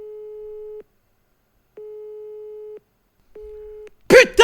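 Telephone busy signal: three steady mid-pitched tones, each under a second long, separated by silent gaps, then a short burst of loud talking at the very end.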